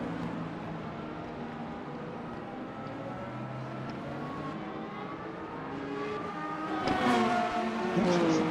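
Race cars in the Le Mans Ultimate racing game at Bahrain, including Porsche and Peugeot entries, roar steadily with layered engine whine, rising louder near the end as cars accelerate, with no talk heard.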